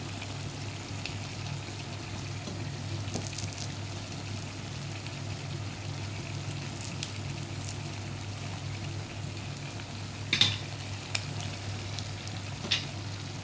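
Chopped coriander and mint stirred into a frying dish in a home kitchen, with a steady low sizzle and occasional scraping stir clatters throughout, close and moderate, no talking.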